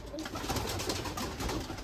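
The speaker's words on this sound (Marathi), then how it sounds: "पिंजऱ्यामध्ये कोंडोळलेले आहेत कबूतर मित्रांनो" Caged pigeons cooing inside a box at a bird market, a steady close run of soft throaty coos over low background rumble, no talk.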